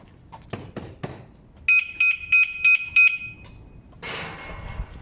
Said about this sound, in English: it should give a warning beep.